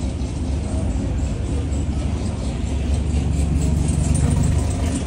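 A Chevrolet Camaro engine idling with a deep, steady rumble, heavy low end and a gentle rise near the end, heard from close by with no talking.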